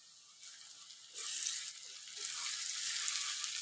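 Radish fry with coriander sizzles in a pan as it is stirred, a continuous hissing fry that swells louder partway through, with a few soft scrapes of the spoon underneath.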